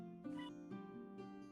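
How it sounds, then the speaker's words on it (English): A whiny tabby cat meows in a few drawn-out, wavering cries, close and fairly quiet, with no talking. "And I heard a cat."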